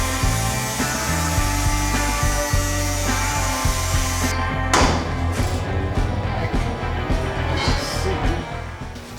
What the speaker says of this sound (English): I'll try to cut the weld out.